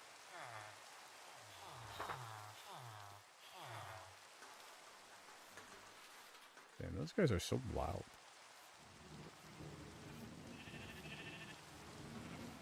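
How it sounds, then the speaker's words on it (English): Steady rain falls in the Minecraft video game as a constant hiss through most of the stretch. Sheep bleat repeatedly near the start, a louder burst of noise comes midway, and a person talks over it at times. "oh, it's raining."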